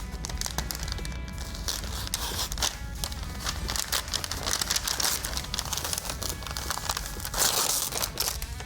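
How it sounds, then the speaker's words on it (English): Masking tape is peeled slowly back on itself from the painted body of a 1993 Dodge W350 truck, giving a continuous close crinkling and crackling rip that lasts several seconds. "I'm pulling this masking tape directly back onto itself."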